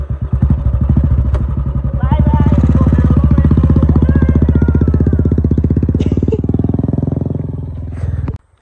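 A motorcycle engine runs loud and close with a steady pulsing throb, revving slightly before cutting off near the end.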